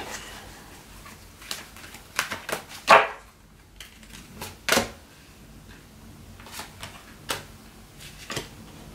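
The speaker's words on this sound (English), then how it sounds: "I'm just going to pull some blunt answers cards on Amy" Tarot cards are pulled and shuffled, giving a scattered series of close, sharp flicks and soft slaps at irregular intervals over near silence.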